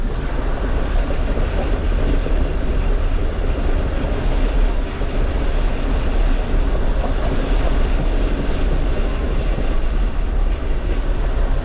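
Off-road overlanding vehicle fording a creek crossing in Virginia, a steady loud rush of water and engine rumble filling the whole stretch without talk.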